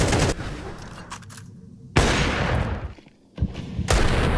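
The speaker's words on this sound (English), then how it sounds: "that shot from Rez is brutal" Sharp, loud gunshots burst out in a competitive Counter-Strike 2 match: a few rapid shots at the start, then two heavy, close blasts with ringing tails, separated by a brief near-silent gap.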